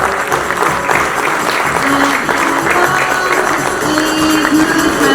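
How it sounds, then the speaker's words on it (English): A large crowd at an Aakash event in New Delhi applauds loudly and continuously, a thick, even wash of clapping hands that holds at full strength throughout without a break. "let's keep the claps rolling as we welcome and honor Srikanth here"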